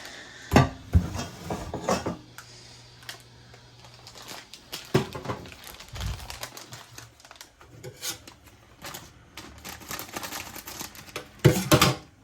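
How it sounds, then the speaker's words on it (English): Small cooking pot handled on a kitchen stovetop for toasting couscous with butter: a run of close metallic clanks and knocks, several sharp bangs, with irregular handling clatter throughout. "Alright, I'm gonna get this small pot."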